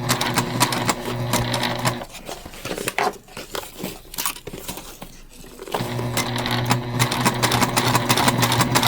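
A sewing machine runs a basting stitch through a fabric bag, its steady mechanical hum loud and close, dipping into quieter intermittent stops midway before resuming at full speed.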